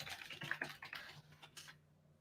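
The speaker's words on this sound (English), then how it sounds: "I apologize for the loud keyboard" Loud computer keyboard typing, a quick burst of close, clicky keystrokes in an irregular rhythm that stops abruptly.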